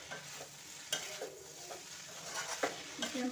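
A spoon stirs mixed vegetable curry in a pan, scraping and clinking in soft repeated strokes over a low sizzle, close and quiet with no talking.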